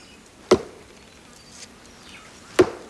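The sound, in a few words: axe hitting a Tasmanian tree trunk, hollow sound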